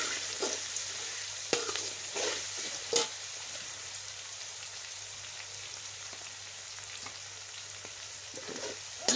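Red chili and dry coriander powder are stirred into chana pulao in a hot pot with a steady soft sizzle, broken by a handful of scraping spoon strokes spread across the clip.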